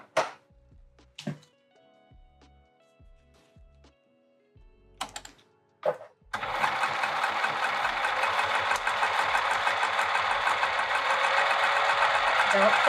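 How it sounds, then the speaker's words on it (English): A domestic sewing machine stitches vinyl for a handbag, starting after a few soft handling clicks and bumps, then running in a steady, close, rapid mechanical whirr for several seconds. "let's sew these down."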